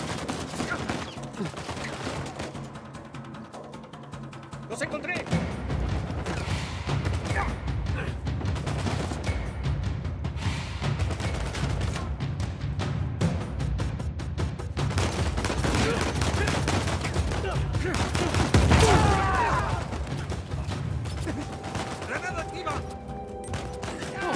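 Rapid bursts of video game gunfire from Uncharted 4: A Thief's End, in a bridge encounter, crackle continuously, with frequent shots and explosive hits layered under excited shouting voices throughout.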